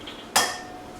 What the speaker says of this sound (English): Next we're going to break 5 eggs into a bowl.